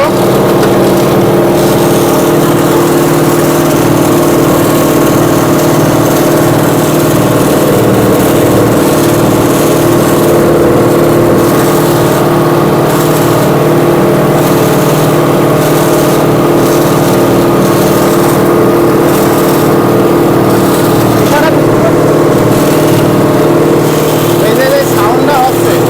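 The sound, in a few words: machine restarted with correct RPM, running engine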